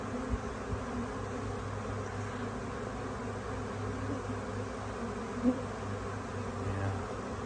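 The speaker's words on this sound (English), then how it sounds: "Very minimal bees in the air, very few bees gathering along here." Honey bees buzz steadily around a hive, a dense, continuous drone of many wings with a faint low hum underneath and no voices.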